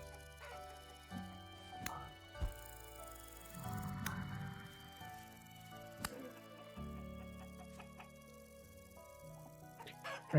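Chickens cluck and squawk in the video game Vintage Story, with several scattered clucks over a layered game soundtrack and ambient tones, fairly close and moderately loud.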